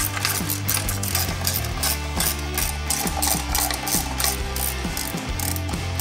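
A ratchet clicks in quick, steady bursts while valve cover bolts are gently snugged down on an 80 Series Land Cruiser engine, close and loud over a constant backdrop of music.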